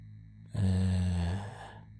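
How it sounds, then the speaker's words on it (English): A machine in the adventure game Future Wars gives off a steady, smooth hum that rises abruptly, holds for under a second and fades, close and fairly quiet, with no talking over it. "the machine is now emitting a faint humming noise"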